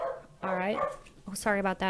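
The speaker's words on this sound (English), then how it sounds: "That is my dog." A pet dog gets excited indoors and lets out a few short, sharp barks near the end, mixed in with a person talking close by.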